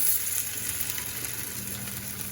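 Sabudana vada frying in a shallow pan as it is flipped, with a quiet continuous sizzle and light bubbling close by, and no talk.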